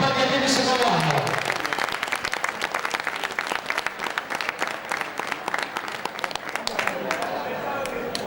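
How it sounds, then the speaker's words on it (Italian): An outdoor crowd at a cyclocross award ceremony in Vittorio Veneto applauds the riders, sustained crisp clapping from many hands with an announcer's amplified voice speaking over the start. "il premio più bello è sempre lo stesso, l'applauso del pubblico per gli allievi secondo anno"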